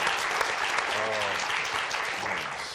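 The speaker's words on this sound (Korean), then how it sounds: "여러분 황인희 씨 박수로 환영을 해주세요" Studio audience applause welcoming a guest onto a television debate set, a dense, steady clapping that fills the whole moment with a voice faintly beneath.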